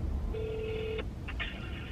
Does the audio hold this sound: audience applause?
no